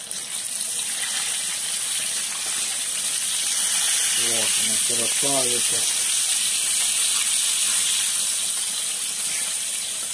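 Meat sizzles and fries in a pan with a steady, loud hiss throughout, while someone talks briefly over it partway through.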